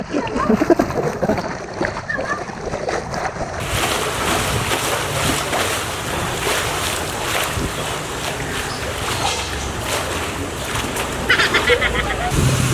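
Water in a swimming pool churns and splashes in waves stirred up by people on a trampoline beside it, a continuous loud sloshing and rushing with voices talking over it.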